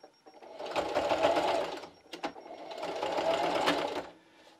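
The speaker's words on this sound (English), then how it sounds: "So I'm going to backstitch at the beginning." A sewing machine backstitches along the edge of a thin fabric strip for a mask lanyard, running in two close, steady bursts with a short click and pause between them.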